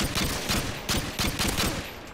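Rapid bursts of FAL rifle fire in Call of Duty: Modern Warfare 2, loud and close, in several clusters of repeated shots separated by short pauses.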